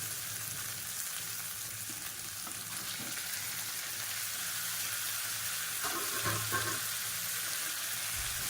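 Chicken pieces sizzle as they go into half-fried onions in a pan for a home-style chicken fry, a steady close frying hiss with a brief stir or clatter near the end.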